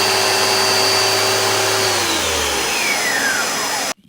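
Dyson DC17 upright vacuum cleaner running loudly and steadily on thick pile carpet, its brush roll whining high and shrill, then the motor winding down and cutting off abruptly near the end.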